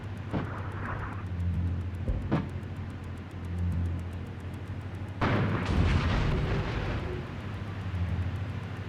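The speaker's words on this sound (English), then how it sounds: "let's fire another ICM mission on 3. Call in about 3 volleys and fire" Artillery ICM volleys go off in an armored warfare RTS video game as deep, heavy booms and rumbles. A louder burst of blasts comes partway through, over a constant low engine drone.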